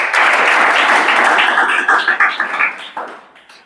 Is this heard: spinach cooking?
no